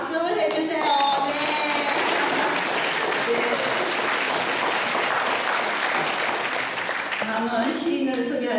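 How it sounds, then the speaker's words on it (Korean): An audience at a Korean art song festival claps in a dense, steady burst of applause that fills the whole stretch, with a voice or two breaking through near the start and end. "사모님 박수 해주세요"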